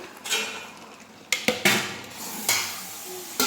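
A large pot of soaked biryani ingredients in yogurt, salt and chili is stirred, giving several loud metal scrapes and clanks of a ladle against the pot in an irregular rhythm, with no voices.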